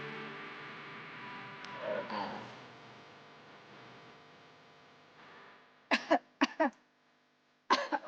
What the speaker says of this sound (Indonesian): Apaan sih batuk-batuk mulu dari tadi?